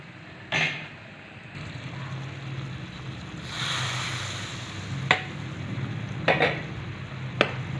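Hot ghee with red chili powder sizzles as it is stirred into chana gravy. A close hiss of frying runs under sharp clinks and scrapes of a spoon against the pot.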